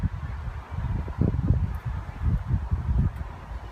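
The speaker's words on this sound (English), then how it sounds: "Got windy here all of a sudden." Gusty wind buffets the microphone with low rumbling and rustling, steady throughout with surges.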